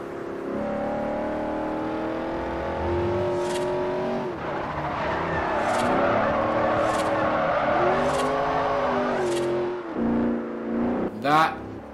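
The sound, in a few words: C6 Corvette engine driving in the Forza Horizon video game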